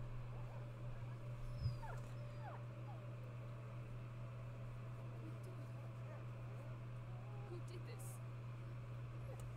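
An injured puppy whimpering in the video game A Plague Tale: Innocence, with faint, thin whines and yips over a steady low game hum, quiet and intermittent.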